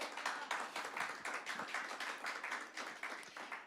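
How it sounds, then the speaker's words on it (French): Clapping in a church congregation during a French sermon, a fairly quiet, brief patter of rhythmic claps with no talk over it. "Oui, ça, on peut applaudir."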